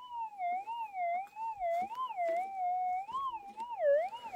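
A Minelab GPX6000 metal detector sounds a clear, warbling target tone over a possible gold find in the goldfields, a steady tone that wavers up and down in pitch for several seconds, close up, with faint handling noise.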